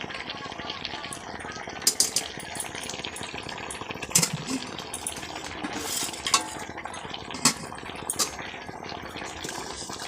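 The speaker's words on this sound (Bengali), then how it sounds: "ঝোলটা ফুটে গেছে, মাছগুলো দিয়ে দেবো।" Fish curry broth boiling in a pan as pieces of fish are dropped in, a steady bubbling hiss with occasional splashes and utensil clinks, under a person talking.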